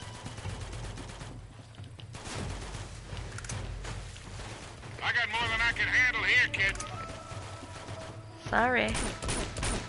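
Bursts of gunfire crackle through a firefight in the video game Uncharted 2, mixed with game music and character voices as people talk over the action.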